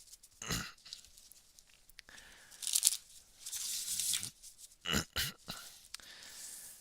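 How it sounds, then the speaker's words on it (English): A deck of 54 playing cards is shuffled in a few quick, crisp riffling bursts with short pauses between them, close and fairly quiet. "But I think these we could conceivably shuffle without any issue."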